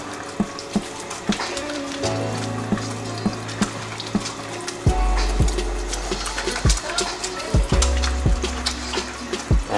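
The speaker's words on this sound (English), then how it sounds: "And I don't think most of us know how to wash our hands to begin with" Hands are washed with soap under a running tap, water streaming continuously close by with sharp splashes and clicks as hands move under the flow, and a person talking over it.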